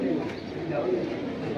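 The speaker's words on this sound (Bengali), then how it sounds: "পেট্টি এডি কবুতর" Pigeons in a fancier's loft collection, including a teddy pair, coo softly and steadily, with voices talking over and around the birds.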